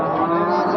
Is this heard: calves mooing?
yes